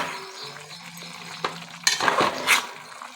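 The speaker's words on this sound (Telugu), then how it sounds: "ఒకసారి ఇలా కలుపుకోవాలి." Drumstick (munagakaya) and tomato curry being stirred in a pan, with a soft steady sizzle under scraping spoon strokes and a few louder clinks of the utensil against the pan near the end.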